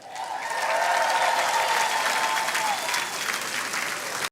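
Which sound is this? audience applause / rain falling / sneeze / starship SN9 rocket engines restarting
audience applause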